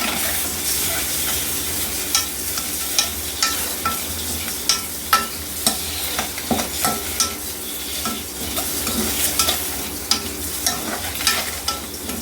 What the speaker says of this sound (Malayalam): മുട്ട ചേർത്തൊന്ന് ജസ്റ്റ് ഒന്ന് ഇളക്കി കൊടുത്താൽ മതി